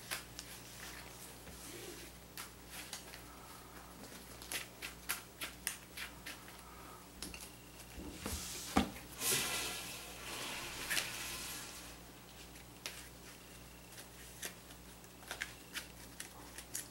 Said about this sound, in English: Maybe a little bit too much shuffling for casual.